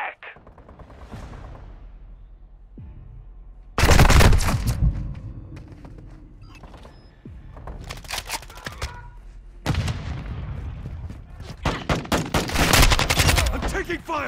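Gunfire in the video game Call of Duty: Modern Warfare II, with quieter stretches giving way to two loud bursts of rapid automatic fire and single shots, plus scattered nearer shots and thuds between them.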